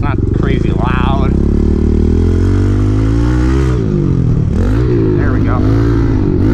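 A pit bike engine runs loud and close while being ridden, rising and falling with throttle changes in a buzzing, rough drone and revving up again near the end.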